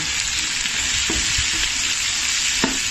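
Chopped vegetables, chayote and bean sprouts sauté in a hot pan, sizzling and hissing steadily up close, with a few soft scrapes and taps of a spatula stirring through.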